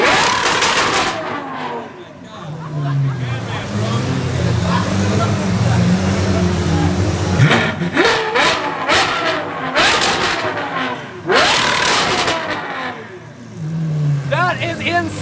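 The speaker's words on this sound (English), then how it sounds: "One of the craziest sounding 812s ever." Ferrari 812 supercar engine revving hard and loud nearby, with sharp rising and falling bursts and crackles, while people exclaim over it.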